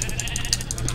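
Sheep bleat in the Minecraft video game, a short wavering blocky cry over a steady background hum, fairly close and brief.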